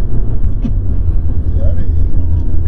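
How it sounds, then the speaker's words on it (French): Citroën car engine roaring loudly from inside the cabin during a drive in Catalonia, a steady heavy low drone running throughout with speech over it. "vous entendez la voiture gueuler si fort"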